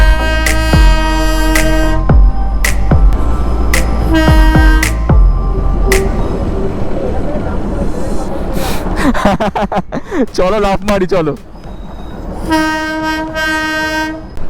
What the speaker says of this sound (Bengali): সামনে টয় ট্রেন যাচ্ছে আমাদের রাস্তার উপর দিয়ে